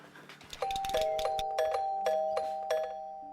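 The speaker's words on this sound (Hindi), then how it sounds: "घंटी लगातार बज रही है।" A doorbell at a house rings again and again, a bright two-tone chime repeating about six times in steady succession, close and clear with no one talking.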